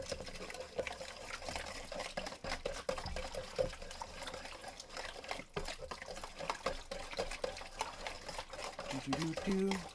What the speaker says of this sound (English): I like to whisk stuff and mix it by hand.